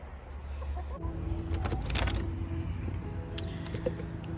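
Soft clucking from a few chickens nearby in a greenhouse, with some light jangling and clinking, over a steady low background hum.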